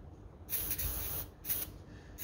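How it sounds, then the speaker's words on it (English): Brake and parts cleaner sprays from an aerosol can into a manual steering box from an HQ, in several short, sharp hissing bursts, close and fairly quiet with no talk. "spray a bit of brake and parts cleaner inside the screw just to clean out all the crap that's inside there"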